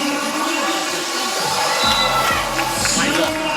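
A dense crowd roars steadily in an indoor volleyball arena during the women's final of King of the Court Utrecht 2021, the noise swelling slightly near the end while a commentator talks over it.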